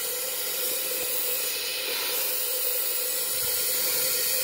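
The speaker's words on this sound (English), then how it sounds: "now I'm going to put pressure inside the evaporator with this air nozzle through the expansion valve" Compressed air hissing from a nozzle into the evaporator of a 1970 Nova factory AC through the expansion valve, a steady, fairly quiet continuous hiss that builds slightly toward the end.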